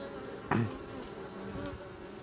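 Honey bees in a hive buzz faintly and steadily close by, with one louder buzzing burst near the start.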